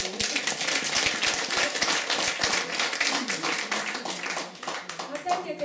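An audience at a festival closing event applauds together, a dense steady patter of many hands clapping close by, sustained throughout with voices faintly mixed in.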